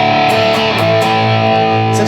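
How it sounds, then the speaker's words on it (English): A heavily distorted electric guitar runs through the Metal Zone distortion model on the clean channel of a Boss Katana MkII amp, playing a loud, thick sustained chord with a few quick changes, close and with no talk. "this is essentially like a metal zone through a clean channel."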